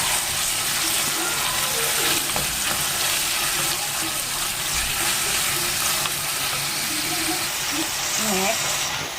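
Onion frying in hot oil with garlic in a home kitchen, a steady loud sizzle with occasional stirring scrapes, while a person talks over it.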